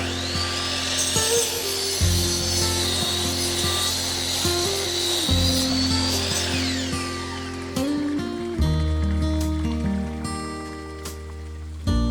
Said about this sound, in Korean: 나무 토막을 자릅니다.